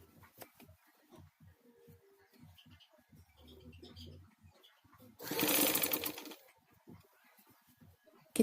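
A sewing machine stitches the sleeve of a crop-top in short quiet bursts, then runs in a louder continuous whir for about a second; people speak softly around it.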